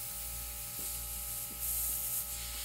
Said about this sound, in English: This is like micro airbrushing